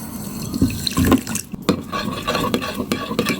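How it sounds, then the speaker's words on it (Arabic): Warm water is poured onto a spoonful of chia seeds, splashing and trickling in close for a few seconds with light clinks of a spoon or dish. "هنزل عليها بشويه ميه دافيه"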